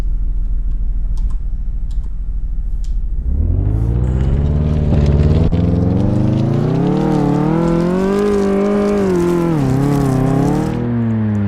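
A car engine in Car Mechanic Simulator 2018 climbing a big hill, idling low at first, then revving up into a loud, sustained whine that rises and wavers in pitch as the car strains upward.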